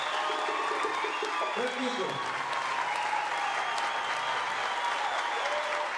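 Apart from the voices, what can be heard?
applause from the crowd in Mao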